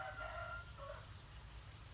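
Chickens in a farm coop give faint, distant crowing calls for about a second, then a low, quiet background remains.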